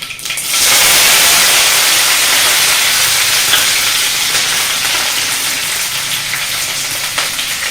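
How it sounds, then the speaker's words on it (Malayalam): Curry leaves hit hot oil where mustard seeds have already popped. A loud, abrupt hiss bursts up and settles into a steady, close sizzle that eases slightly toward the end, without speech. "കടുക് പൊട്ടിക്കഴിഞ്ഞ് വേപ്പില ഇടുക"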